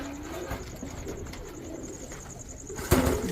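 Pakistani teddy pigeons coo softly and repeatedly at close range, with low throaty calls and a brief flutter or louder coo near the end.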